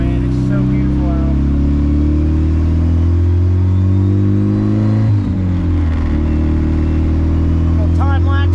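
Turbocharged car engine fitted with a Gen 2 Pulsar 3076 turbo revs steadily up close, a loud sustained rumble with a brief dip and recovery midway, ending with a short faint whistle.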